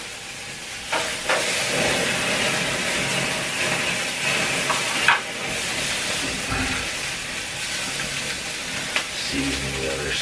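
Burger patties sizzle steadily on a grill in a tiny Thai micro-kitchen, a loud continuous hiss with occasional pops and clanks throughout.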